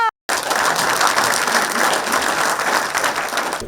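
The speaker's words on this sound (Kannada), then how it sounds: "ಜೋರು ಚಪ್ಪಾಳೆ ಬರಲಿ," An audience at a Kannada film industry event breaks into loud, sustained applause, a dense wash of many hands clapping close and continuous after a brief pause.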